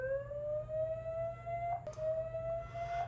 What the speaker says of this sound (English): This will trigger the device to issue an alarm.